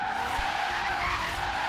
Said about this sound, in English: as you see, guys, it's just drifting like a champion